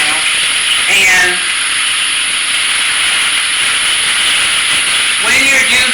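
Boneless skinless chicken thighs frying in a pan, a steady loud sizzling hiss throughout, with brief clatter near the start and end.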